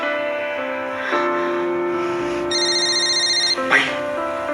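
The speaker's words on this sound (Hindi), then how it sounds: "भाई वानी का फोन आ रहा है," A phone rings with a melodic electronic ringtone, a steady tonal pattern that adds a brighter layered phrase partway through. It plays loud and alone, ending with a short bump of handling noise.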